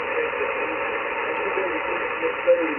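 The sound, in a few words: radio band noise on Yaesu FTX-1 receiver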